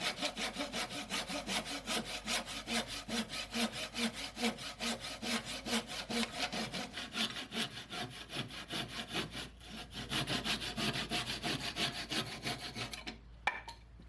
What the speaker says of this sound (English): Then I roughed out the big transom side bevel with a handsaw.